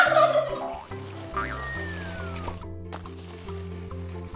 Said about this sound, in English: T, turkey.